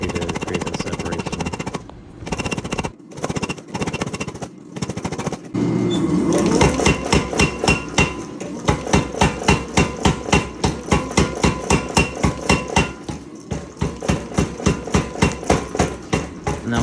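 Hot steel hammered on an anvil to draw out a forged leaf for a wine or whiskey bottle holder, with a few spaced blows and then a fast, rhythmic run of loud ringing strikes over a machine hum.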